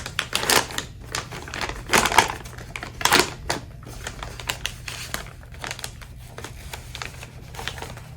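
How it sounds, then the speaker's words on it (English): Disposable LVAD dressing-change tray being taken out of its outer plastic packaging, giving a few loud crinkling, crackling bursts early on, then quieter rustling and handling noises close by. "remove the tray from the outer packaging and place on the table"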